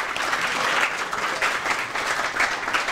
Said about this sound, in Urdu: تالیاں تو بجا دیں اس کے لیے